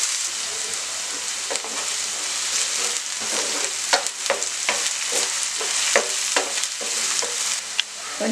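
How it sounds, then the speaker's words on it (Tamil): Onion and green chillies sauté in a pan for a chicken and mushroom stir fry, with a continuous close sizzle and repeated scraping stirs of a spatula. "இப்போ ஒரு பெரிய வெங்காயமும் ஒரு 3 பச்சை மிளகாய் போட்டுக்கலாம். எல்லாத்தையும் வந்து நல்லா வதக்கி விடுங்க."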